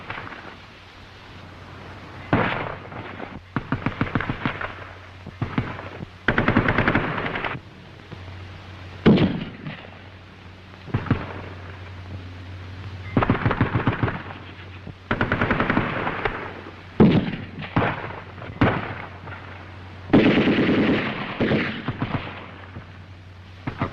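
Coordinated fire from a WW2 German infantry squad in an assault drill, bursts of machine-gun and rifle shots in repeated loud volleys over about twenty seconds, with no voices.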